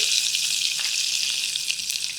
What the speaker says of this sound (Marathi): लसूण छान परतून घेऊया